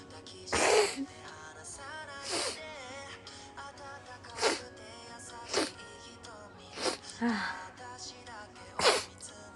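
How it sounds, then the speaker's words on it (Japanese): Several sneezes from a young Japanese woman, about six sharp bursts spaced a second or two apart, close and fairly loud, each a quick intake followed by an explosive release, with faint background noise between them. "くしゃみでそう"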